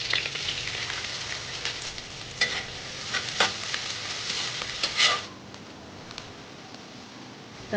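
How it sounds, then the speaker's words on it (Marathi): Mustard seeds crackle and sizzle in hot oil for a tempering, a dense steady frying hiss with sharp pops and stirring clatter close by, fading to a quieter sizzle toward the end. "मोहरीची फोडणी दिली आहे मस्त."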